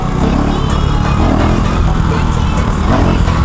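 A 2024 KTM Duke 390 motorcycle rides off and accelerates, its engine loud and rough close by with clattering mechanical noise and continuous buzzing throughout.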